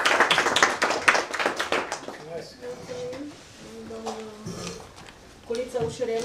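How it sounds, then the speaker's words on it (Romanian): An audience at a library week event in Adjud claps briskly for a moment, the sharp claps fading out quickly as a voice takes over and continues talking. "vă rugăm să-l aplaudați pe domnul."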